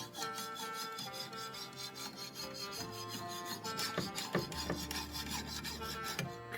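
Knife blade drawn across a 10,000 grit whetstone in repeated rhythmic rasping strokes, soft and close, with faint steady background hum and no talking.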